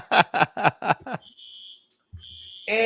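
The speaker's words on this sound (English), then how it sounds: "Okay, Robert, it is a fire alarm." A fire alarm sounds with a harsh pulsing beep, a run of loud evenly spaced blasts and then a steady high tone, close by and with no talk over it.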